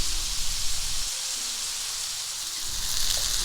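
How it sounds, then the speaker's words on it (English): Sausage patties sizzling in a lightly greased large skillet over medium-high heat, a steady close hiss and crackle that holds throughout, with a few soft bumps at the start. "Add the patties. Cook the patties for 2 minutes on one side."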